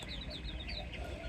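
A young chicken clucks in a quick run of short, bright calls, close by and moderately loud over a low background hum.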